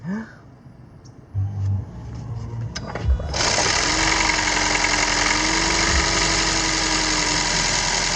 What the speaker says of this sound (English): At some point, the engine will start turning on.